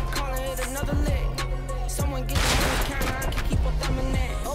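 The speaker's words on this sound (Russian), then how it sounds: "Ты слышишь эти выстрелы?" Gunfire in a survival shooter video game, a burst of repeated shots and a dense volley in the middle, loud and close, with sharp cracks spread across the few seconds.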